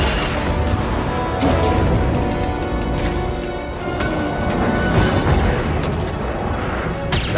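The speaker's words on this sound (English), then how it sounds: "That's the blasters." Star Wars Jedi: Fallen Order blaster fire, a dense, loud barrage of sharp blasts and crashing impacts, rapid and continuous, filling the whole stretch with chaotic combat noise.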